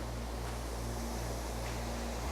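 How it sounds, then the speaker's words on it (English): Huge Melincourt waterfall in a South Wales canyon, a steady, loud roar of rushing water with a constant low rumble and broad hiss, unbroken and close, with no voices. "What an amazing waterfall, guys. This is absolutely huge and so noisy as well."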